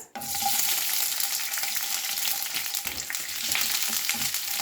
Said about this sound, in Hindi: तो घी अब हमारा गर्म हो गया है, तो इसमें पहले मैं डाल दूंगी प्याज